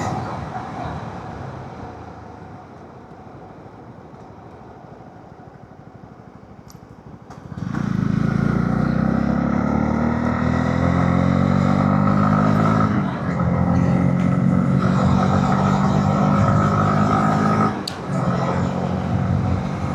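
A vehicle picks up speed on an empty road at night, a low rising engine drone swelling loud and close after a quieter opening, with a steady roar and shifting pitch through the rest.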